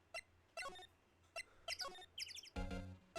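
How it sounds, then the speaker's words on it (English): Bird chirps from Phoenix Wright: Ace Attorney, a run of short bright tweets and trills repeated in quick bursts, fairly loud and close, ending in a denser harsh flutter. "Loud birds."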